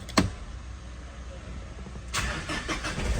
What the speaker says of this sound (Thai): เหยียบเบรกนะคะกดปุ่มพุชสตาร์ได้เลย